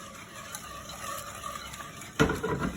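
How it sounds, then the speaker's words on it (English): A whisk stirs a semolina, milk and sugar mixture in a pot on the stove, a low steady swishing that gives way to a louder burst of scraping and clinking against the pan near the end. "I mix it well with a whisk."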